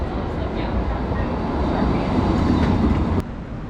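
A train rumbles steadily through Wynyard underground station in Sydney, a dense low roar with faint rattling, fading slightly at the end.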